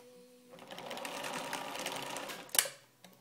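A sewing machine stitches down the elastic casing on a fabric bonnet, running in one steady whirring stretch for about two seconds before stopping with a click.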